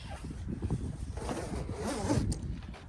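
A zipper on a Sprinter campervan's screen panel is pulled along in one long, rasping stroke, close by, with no voices.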